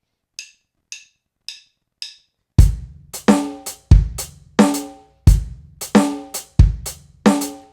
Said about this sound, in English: playing the 4 between kick and snare underneath quarter notes on the hi-hats sounds like this